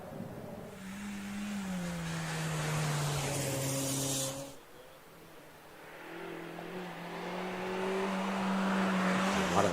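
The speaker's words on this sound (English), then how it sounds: "And away off the line goes James Wills with the Renault Clio 197." Renault Clio 197 race car at the Wiscombe Park hillclimb, engine note rising through the gears as it pulls away off the line, then easing and building again in steady acceleration at mid distance.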